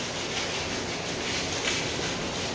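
Sandpaper rubbed in circular motions over a concrete faux rock, a steady, continuous gritty scrubbing at close range with even loudness throughout and no talk.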